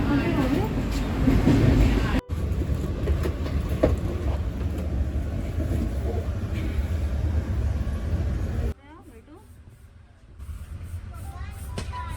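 The Avantika Express runs from Mumbai to Indore with a steady rumble and rattle heard from inside a carriage, while people talk over it; the noise drops abruptly near the end, then partly returns.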